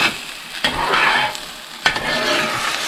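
Food sizzling loudly in a pan while being stirred and folded over, with two sharp scrape-and-clank strikes a second apart against a steady close frying hiss.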